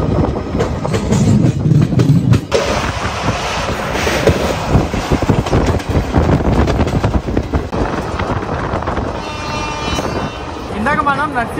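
Simhadri Express train during a brief stop at a station, with steady rumbling carriage noise, clanks and broadband hiss throughout, brief squealing toward the end.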